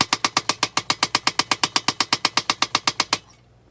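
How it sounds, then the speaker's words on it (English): Rapid, even blows from a power hammer forging steel for a knife blade, around twenty loud strikes close by in a steady rhythm before stopping abruptly into quiet. "Maybe I need to get some rubber mounts for the hammer."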